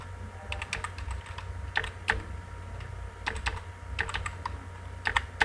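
Keys clatter on a computer keyboard while a webpage title is typed in HTML, with quick irregular clicks over a steady low hum and no talking.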